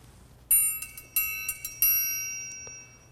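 A triangle struck several times in an uneven rhythm, each bright metallic ring overlapping and sustaining, then fading out alone.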